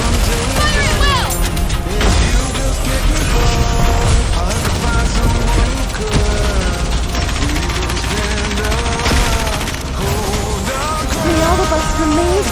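Gunfire and explosions from a combat battle in the mobile shooter game Goddess of Victory: Nikke, dense and continuous throughout, layered with game music and sharp impacts.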